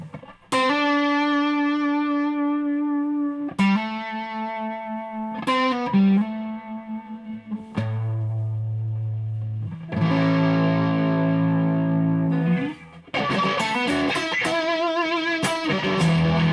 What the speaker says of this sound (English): we turn on some reverb